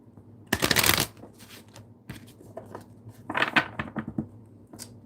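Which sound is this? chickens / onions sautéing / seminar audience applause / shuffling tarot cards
shuffling tarot cards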